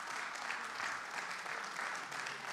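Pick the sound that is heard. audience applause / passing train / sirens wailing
audience applause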